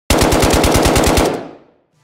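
An AK47 fires a rapid automatic burst of about a dozen sharp, loud shots in even rhythm, closing with a short, quickly fading indoor tail.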